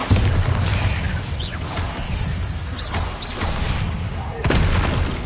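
A Bombarda spell exploding in the Hogwarts Legacy video game: dense booming blasts and crashing impacts with whooshes, under a loud continuous din of battle effects and music.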